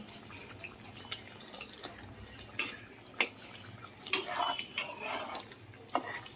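Mustard pabda fish curry simmering in a pan gives off soft, irregular bubbling pops and a few sharper clinks, fairly quiet and close, with no voices.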